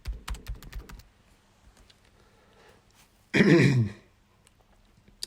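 A brief burst of computer keyboard typing at the start, rapid clicky keystrokes close by, followed by quiet room tone and then a loud throat clearing or cough.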